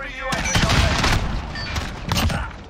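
Rapid bursts of automatic gunfire in Call of Duty: Modern Warfare beta multiplayer, loud and dense, with shots stacking into a near-continuous volley and a player talking over it.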